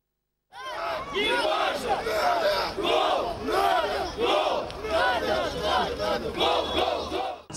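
Football fans at the home stadium of Uralsk club Akzhaiyk, facing Ekibastuzets at the season opener, roar and chant in a loud, continuous wave that pulses rhythmically after a brief silent start.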